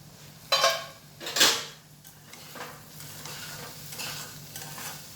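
Unpeeled green banana fries slowly in a pan over a low gas flame, with no turmeric added; a soft, steady sizzle runs underneath a couple of louder utensil scrapes and clinks against the pan.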